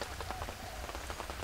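Rain falling by a riverside house during an all-day downpour, a dense, close patter of drops hitting surfaces, loud and constant with no talking.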